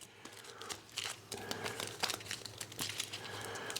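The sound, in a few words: shuffling a deck of game cards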